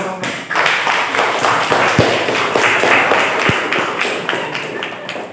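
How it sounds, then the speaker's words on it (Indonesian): A school class in Indonesia claps during a lesson, a loud, dense burst of many hands that runs steadily for several seconds, with a few sharper thumps standing out. "Oke, tepuk tangan."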